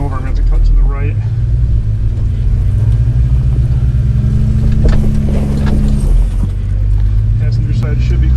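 An off-road vehicle's engine rumbles low and steady as it crawls up over rocks on Spring Creek Trail, with a deep droning tone that swells slightly midway and stays close and loud throughout.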